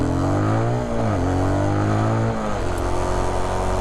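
Motorcycle engine pulled to full throttle on a practice course, a loud close drone with the pitch rising and shifting as the revs climb.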